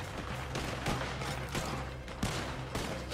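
Gunfire in Red Dead Redemption 2, a handful of sharp shots at irregular intervals, moderately distant, over a rumbling background with no clear talk.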